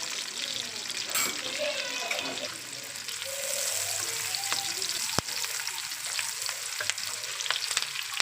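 Chicken jalfrezi frying over a high flame, a steady loud sizzle that runs the whole time, with stirring scrapes, a few sharp utensil knocks, and some running water or washing noise in the background.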